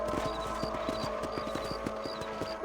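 Horse hooves in Red Dead Redemption on PC, played as a rider takes a slow patrol around the area. The hoofbeats make a steady, even clip-clop that runs through the whole stretch over a constant layer of tonal game ambience.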